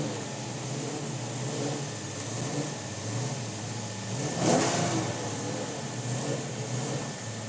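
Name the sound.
1968 Dodge Charger R/T engine running after start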